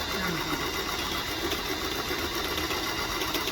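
A new Singer automatic sewing machine stitches on its first stitch setting, a continuous close mechanical whir with a rapid even needle rhythm.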